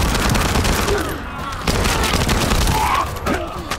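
Dense, continuous bursts of gunfire in the video game The First Descendant, loud and close with rapid overlapping shots and booms throughout.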